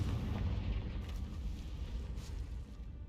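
A Confringo fire spell blasts in a Harry Potter video game, a deep booming explosion with rumbling low-end bursts that roll on for about three seconds.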